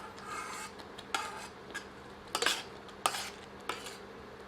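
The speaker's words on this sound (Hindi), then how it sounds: "इसे मसाले में अच्छी तरह मिलाते हैं" A spoon scrapes and stirs spinach through masala in a pan, making several separate clinks and scrapes over a low hiss, close and fairly quiet, with no talking.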